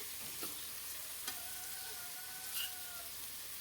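A mashed potato mixture is stirred in a hot pan, a steady loud sizzle and frying hiss with scraping strokes of the spoon, close and continuous, no talking.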